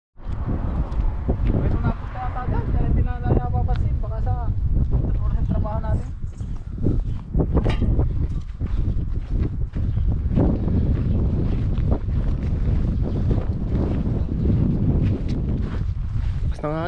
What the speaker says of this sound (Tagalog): Ang hangin yan, no?